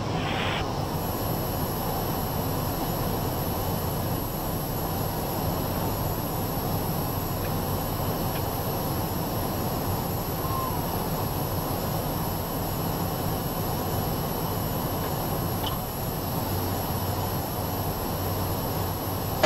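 A Cessna 208B Grand Caravan turboprop drones steadily through a visual approach to land, a loud, unbroken broadband engine roar with a faint high whine, no voices over it.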